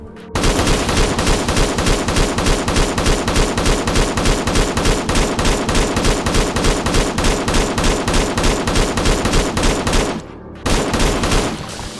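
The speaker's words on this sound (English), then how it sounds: "now let's just use the AK to take out the floater" AK rifle fired in fully automatic bursts at a floater in the Wasteland Survival video game, a loud, rapid, steady rattle of shots that breaks off once briefly, then resumes.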